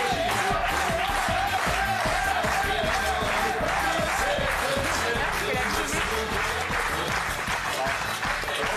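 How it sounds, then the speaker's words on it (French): A television studio audience applauds guest Patrick Sébastien with loud, sustained, dense clapping and some cheering throughout, close and continuous. "Applaudissements pour lui."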